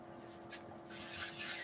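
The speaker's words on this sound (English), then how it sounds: "what I'm using is it's actually a sanding sponge" Soft, close scratchy rubbing of a very fine sanding sponge against a bell's surface, light at first and then a steadier, louder abrasive swish, with no talking.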